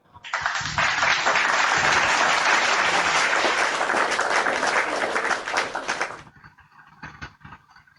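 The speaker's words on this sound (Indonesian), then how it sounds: "Tepuk tangan yang di bawah." Loud applause from a church crowd, a thick roar of many clapping hands that starts abruptly, holds steady for several seconds, then cuts off, leaving a few scattered claps and quiet room noise.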